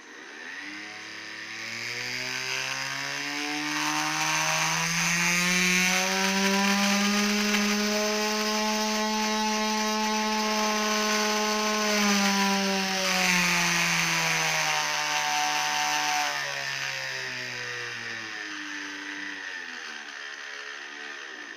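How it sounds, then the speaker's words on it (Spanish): A DC motor runs slowly on a speed controller while drawing almost 5 amps, giving a tonal electric whine that rises in pitch, holds steady for a long stretch, then sinks again as it slows, with no voices. "Fijaos lo despacio que va el motor y ya tiene un consumo de casi 5 amperios."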